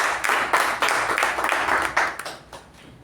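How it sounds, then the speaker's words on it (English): A small meeting audience claps in a brief round of applause, close and fairly loud at first, then thinning out and fading over a few seconds. "Ladies and gentlemen, give her a big round of applause."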